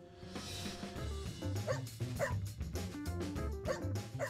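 A dog barks repeatedly in short yapping bursts, some whiny, at moderate distance over a background of other sounds.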